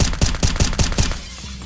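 Rapid burst of about six gunshots from a Glock pistol fitted with a drum magazine, fired outdoors in the South Bronx, loud and close with evenly spaced cracks, then a short echoing tail.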